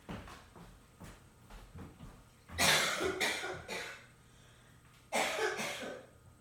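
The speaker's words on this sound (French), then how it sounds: "Faut vraiment que j'aille tousser ailleurs." A woman coughs up close in a few harsh bursts, with quieter throat clearing and breaths at first, then two loud clusters of repeated coughs separated by a short pause.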